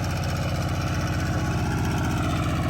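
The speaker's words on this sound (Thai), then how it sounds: "แล้วเป็นรถไถเดินตาม" A small walk-behind tractor engine runs close by in a harvested rice field during peanut planting, chugging loudly in a rapid, even rhythm with no voices.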